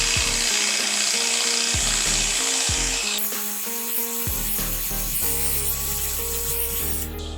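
Electric hair clippers buzz continuously while cutting a taper, the motor hum shifting in pitch and loudness as the blade moves through hair, with no voices.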